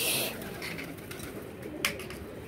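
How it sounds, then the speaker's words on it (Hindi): Pigeons in a rooftop loft coo softly and steadily through a low, continuous murmur, with a few brief flutters and chirps rising above it; no talking is heard. "ये मैंने काट के नीचे छोड़े हुए कबूतर।"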